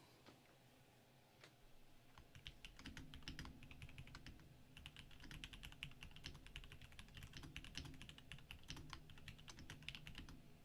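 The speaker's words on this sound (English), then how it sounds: "If you hear me smacking my keyboard, that's me typing." Typing on a computer keyboard during a live stream: fast, irregular clicking keystrokes, close and fairly quiet, starting with a few isolated taps and then continuing in a dense run.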